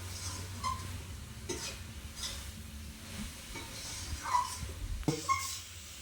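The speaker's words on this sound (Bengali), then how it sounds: "হালকা আঁচে নারকেলের পুরটা আমি তৈরি করে নেব।" Coconut filling with grated ginger stirs in a pan over low heat, giving a soft steady sizzle with occasional scraping strokes, close and continuous with no talk.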